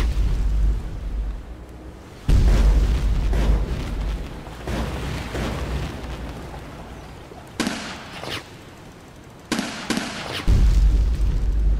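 Turrets in the game Drill Deal Oil Tycoon fire away in heavy booming bursts, with sustained rumbling volleys separated by short pauses and sharp, louder shots near the end.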